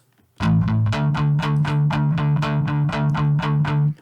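Electric guitar through a homemade DIY amp with a crunchy, bright distorted tone, playing a steady run of about a dozen evenly spaced picked notes and chords, loud and close, with no voices.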